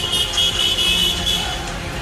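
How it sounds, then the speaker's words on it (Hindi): Road traffic with cars passing along a street beside a riverside building, a steady broadband rumble and hiss of vehicles with a faint high whine, continuous and moderately loud. "दूसरी तरफ सड़क पर गाड़ियों की आवाजाही भी हो रही है"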